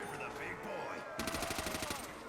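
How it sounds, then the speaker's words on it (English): STG rifle in Call of Duty: World at War zombies fires a rapid automatic burst of about a dozen evenly spaced shots after a moment of game ambience, fairly quiet overall. "I'm gonna grab the STG. One of my favorite guns in World at War."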